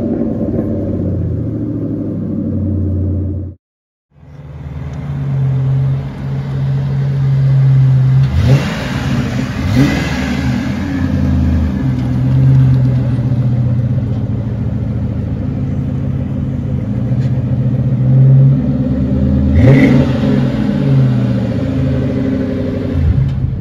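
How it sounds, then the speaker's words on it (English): A 2002 Ford Crown Victoria LX Sport engine rumbles loud and close. It cuts out briefly near the start, then idles steadily with revving swells about a third of the way through and again near the end. "this is my 2002 Ford Crown Victoria LX Sport in deep Wedgwood blue"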